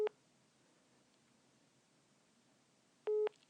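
Telephone busy signal after a call drops: two short tone bursts, one at the very start and another about three seconds later, separated by near silence on the line.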